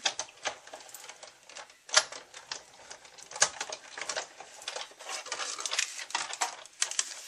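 Repeated clicking and clacking of a scallop tag punch working through crisp cardstock, a busy run of sharp taps and small snaps close by, with no voices.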